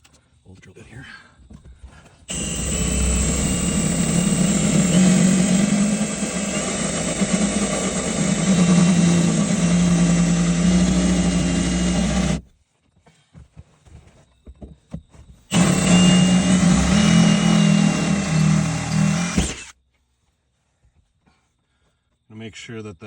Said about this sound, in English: Excuse my old drill bit here.